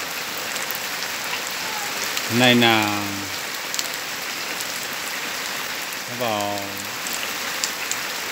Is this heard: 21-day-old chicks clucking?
no